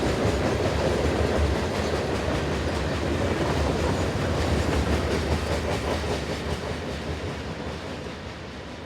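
A heavy freight train accelerates past the Leeland Road Station platform in Eastern Virginia, a loud, continuous rumble with steady clickety-clack of wheels over rail joints, holding close and strong before easing slightly at the end.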